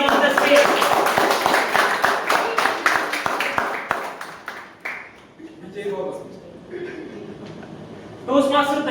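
Audience at a Toastmasters club claps to welcome a speaker on stage, a burst of sharp applause that fades out, followed by voices talking and a brief renewed clatter.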